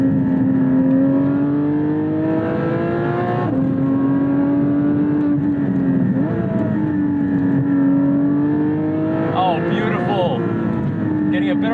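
A high-revving engine climbs in pitch and holds a strained note, with shifts between gears and a steady wind-like roar underneath.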